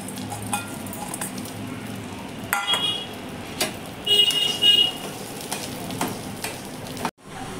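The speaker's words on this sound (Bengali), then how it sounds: "অল্প তেল দিয়ে মুগ ডালগুলো ভাজবো" Mung dal frying lightly in a little hot oil for khichuri, a soft steady sizzle with occasional stirring scrapes and clinks, fairly close, ending with a brief cut near the end.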